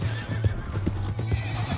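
A horse in Red Dead Redemption 2, rhythmic clip-clop of galloping hooves close by, with a loud neigh carried over the steady beat.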